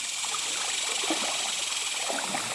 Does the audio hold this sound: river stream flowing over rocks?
yes